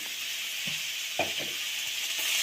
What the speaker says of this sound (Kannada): ಇದಷ್ಟು ಪೂರ್ತಿ ಫುಲ್ಲು ಬ್ರೌನಿಷ್ ಆಗೋವರೆಗೂ ಹುರ್ಕೊಳ್ಳಿ